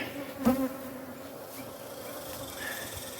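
Honey bees hum steadily around an outdoor colony at a cutout inspection site, a close, continuous drone with individual bees zipping past the listener now and then.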